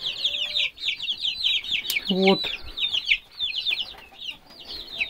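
Young chickens in a coop give a rapid, continuous run of high peeping and clucking calls, close and fairly loud, and a person says a word briefly partway through.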